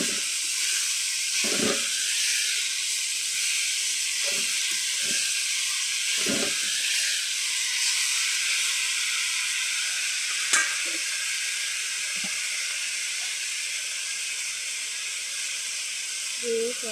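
Leafy greens sizzle and hiss steadily in a hot pan over low heat, a constant bright frying noise with occasional soft stirring knocks and pops underneath.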